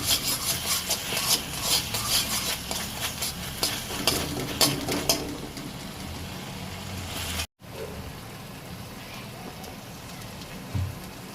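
Spicy Indian-style egg pasta sauce frying on low heat in a pan, a crackling sizzle with brisk utensil stirring and clinks at first, then settling into a quieter steady simmering hiss, no voices.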